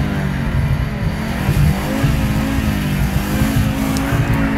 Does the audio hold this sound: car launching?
yes